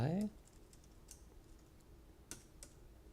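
Soft, sparse keystrokes on a computer keyboard tap out a few isolated clicks, quiet and close, with a brief voice-like sound at the very start.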